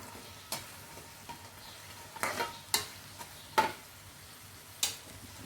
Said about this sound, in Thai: แม่คนไม่หยุดมือเลยนะ เพื่อให้เขากระจายความร้อนไปทั่วๆสีจะได้สม่ำเสมอนะคะ